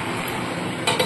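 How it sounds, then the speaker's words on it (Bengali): A metal lid set down on a cooking pot of simmering poi greens with fish head, a short clatter of two close clinks after a soft low hiss. "আবার ঢাকা দিয়ে দিচ্ছি।"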